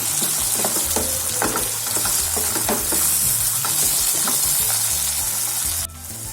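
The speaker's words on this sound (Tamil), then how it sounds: "அடுத்ததாக இதையும் நல்லா மிக்ஸ் பண்ணி விட்டுக்கலாம்." Sliced tomatoes and onion fry in hot oil for a vegetable dum biryani while a spoon stirs them, giving a loud, steady sizzle broken by repeated scraping strokes, with a low hum running under it until the sizzle drops near the end.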